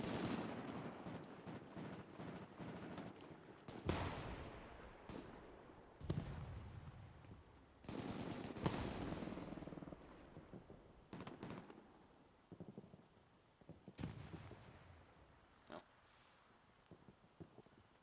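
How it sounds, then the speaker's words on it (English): Explosions and gunfire in Hell Let Loose, a World War II D-Day multiplayer shooter, with several sharp loud blasts that trail off, scattered distant shots in between, and bursts of broadband rumble across the whole stretch. "Not sure if that was a grenade or an AP mine"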